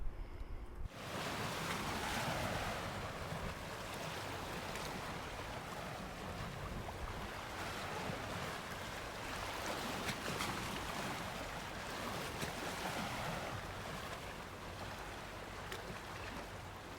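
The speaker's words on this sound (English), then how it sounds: "Not a bad beach then. Oh, lovely beach." Waves washing onto a beach beneath a cliff on the County Durham coast, a broad continuous surf roar mixed with wind, steady and close, with no talk.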